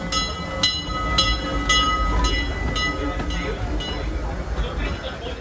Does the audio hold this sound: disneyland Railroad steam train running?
yes